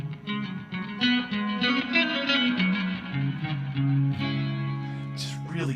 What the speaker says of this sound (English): I wanted you to hear the reverb that's actually built into the Space Echo.